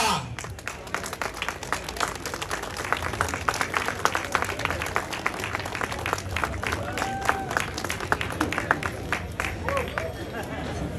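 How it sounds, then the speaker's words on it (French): An audience at an enduro event marking the sport's 50th anniversary in Langeac applauds a legendary enduro rider, with crisp, continuous clapping mixed with crowd chatter and murmuring voices. "Je vous demande d'applaudir une légende de l'enduro, la première légende de l'enduro, Monsieur Joël Thérel."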